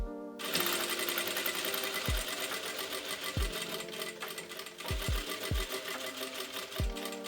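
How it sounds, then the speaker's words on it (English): A sewing machine stitches fabric in a continuous fast whir close up, with occasional low thumps scattered through the run. "make a stitch 7 millimeters from the edge"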